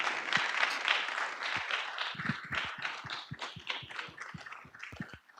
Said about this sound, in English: So can I have a round of applause, please?